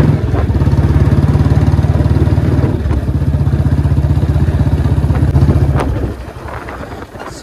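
A Royal Enfield Bullet 350 BS6 motorcycle engine runs close by with a strong, rhythmic low thump, loud and steady for about six seconds before dropping off to a quieter rumble.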